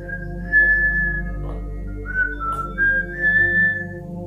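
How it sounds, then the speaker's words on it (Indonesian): Eerie human whistling drifts in several sustained, wavering tones with short pauses between phrases, clear and alone over a low hum. "Suara siulan tersebut berasal dari pondok tengah atau pondok B"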